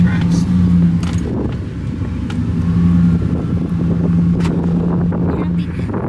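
A vehicle rolls slowly through a sandy garden yard in Palm Bay, its steady low engine hum mixed with wind buffeting the microphone, close and constant, while someone talks over it.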